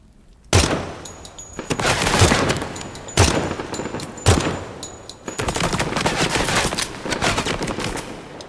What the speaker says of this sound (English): Wow, that's a lot of bullets that didn't hit me.